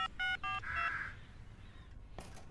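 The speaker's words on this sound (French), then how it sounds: "Mais je dois avant téléphoner à Zoé." A telephone number is dialed in a Bob the Builder cartoon, a few quick electronic keypad tones followed by a brief warbling beep. Faint background ambience follows, then a short click.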